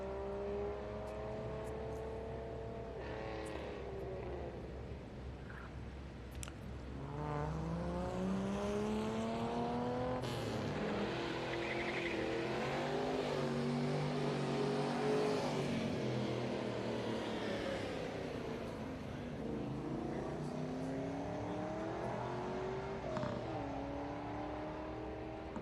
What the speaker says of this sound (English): Brian Young in the Triumph TS Vitesse tips it into turn 1 for his last run of the day